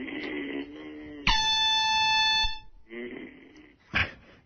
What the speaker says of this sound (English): Try the air horn.